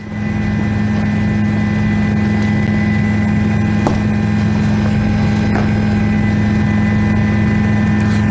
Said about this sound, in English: That's Ralph Rayburn speaking from the chopper